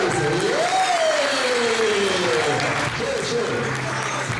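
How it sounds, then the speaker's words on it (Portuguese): A crowd claps together in steady applause at a business seminar in Fortaleza, the dense patter loud and sustained while a voice carries over it. "uma salva de palmas a vocês"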